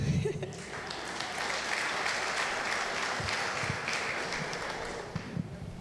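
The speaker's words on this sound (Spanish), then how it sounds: "Otro aplauso." Church congregation at a Sunday school gathering applauding: steady, moderately loud clapping from a room full of people, lasting several seconds with a few louder claps near the end.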